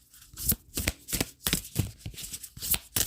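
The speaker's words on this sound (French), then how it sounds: "je suis en train de mélanger le dernier oracle, les messages de Marie-Madeleine" Oracle cards featuring Mary Magdalene messages being shuffled by hand, a run of crisp riffling bursts in an uneven rhythm, close and clear with no talking.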